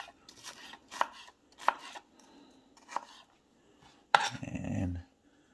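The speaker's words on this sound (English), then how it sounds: "Slicing and dicing." Stainless steel kitchen knife chopping food on a board, several crisp separate chops at an uneven pace, close and fairly loud, ending in a louder clatter with a short low rumble.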